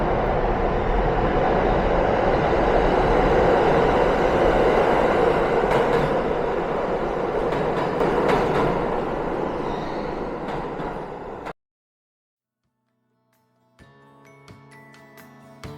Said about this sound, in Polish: Wychodzę już z metra, bo właśnie coś nadjeżdża.